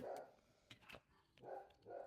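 Dogs barking in bursts near a room where a person is indoors, several sharp barks clustered at the start, middle and end of a short stretch, fairly faint and with no talk over them.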